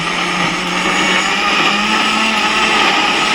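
Mixer grinder running while making chutney, a loud, continuous motor whine with a steady broadband roar and no pauses, close by.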